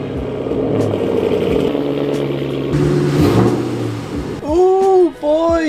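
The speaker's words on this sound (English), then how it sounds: "I'm gonna go ahead and pull the car out and then spin it around and pull the front in" Ford Mustang GT V8 engine idling and rumbling as the car is pulled out, with a rise in revs midway, then a tonal whine or squeal near the end, recorded close and loud.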